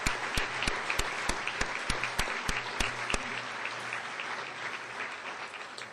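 At a State of the City event, a large hall audience applauds hotel staff and food servers, a broad steady wash of clapping with several sharp, evenly spaced claps standing out nearby, fading slightly toward the end.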